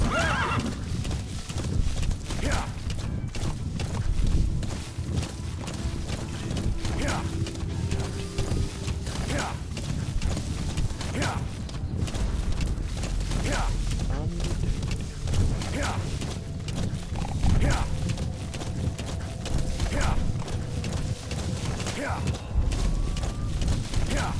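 A horse galloping in Metal Gear Solid V: The Phantom Pain, with steady clip-clop hoofbeats and repeated neighs and whinnies carrying on throughout, loud and close, with a voice talking over it.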